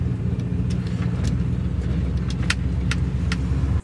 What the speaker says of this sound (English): See, the truck, it just runs really good.